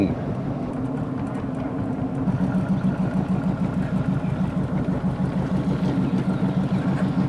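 A boat engine drones steadily on Inle Lake in Myanmar, a continuous low, throbbing hum close by that holds an even pulse throughout.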